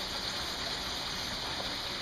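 Running water from a stream powering a water wheel that turns a gold prospecting trommel, heard as a steady, dense rushing wash with no distinct mechanical beats, constant and close.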